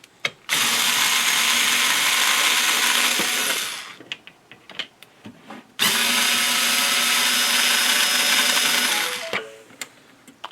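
Two long, loud bursts of a power screwdriver or drill remove screws from the back of a vintage Zoom 9030 guitar effect processor, each whirring burst followed by small clicks and handling knocks, close up and with no speech.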